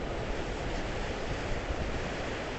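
Ocean waves roll and break at the Ponce Inlet Jetty in Florida, a steady, loud wash of surf mixed with wind buffeting the microphone, with no voices.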